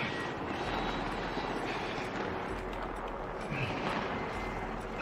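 A helicopter in the Call of Duty video game produces a steady, droning engine roar that holds a constant level from start to finish, heard alone without voices.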